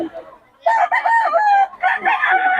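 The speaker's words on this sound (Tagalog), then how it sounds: "Solid mga manok nito ni Boss Batang." A close rooster crows loudly, a drawn-out cock-a-doodle-doo followed by another crow, with a little clucking before.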